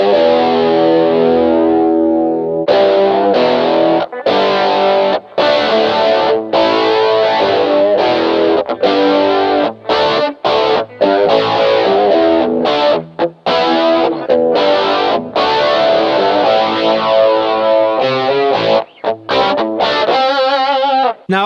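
An electric guitar runs through an MXR Rockman X100 analog tone processor in edge mode, loud, saturated and chorus-tinged, with chords and picked phrases played continuously while the input gain is changed.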